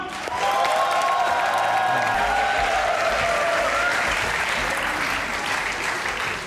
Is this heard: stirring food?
no